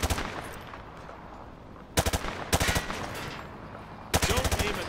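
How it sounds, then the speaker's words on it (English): Hip-fire gunfire from an automatic rifle in Call of Duty Modern Warfare 2: loud rapid bursts, one opening the clip and three more near the two-, two-and-a-half- and four-second marks, over a steady low rumble of battlefield ambience. "He sprayed bullets all over the damn place"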